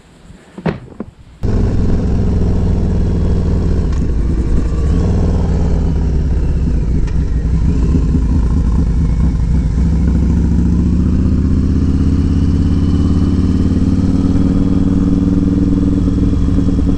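A Harley-Davidson Road Glide motorcycle engine fires up after a few brief knocks and clicks, then idles steadily and loudly close by, with a deep rumble that holds without pause.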